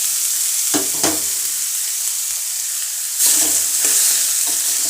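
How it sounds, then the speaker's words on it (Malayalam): Soybeans and crushed garlic sizzle steadily in a hot pan with oil, with a couple of louder stirring bursts of crackle and scraping near the start and again later, no voices. "പിന്നെ അതിലേക്ക് ഞാൻ ഫ്രൈ ചെയ്യാൻ വെച്ചേക്കുന്ന സോയാബീൻ ഇട്ട്"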